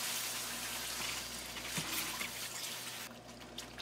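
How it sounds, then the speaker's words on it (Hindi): Water poured into a hot pan of egg gravy with oil and spices, a close, steady hissing sizzle and liquid splash that fades near the end. "पानी ऐड कर दो।"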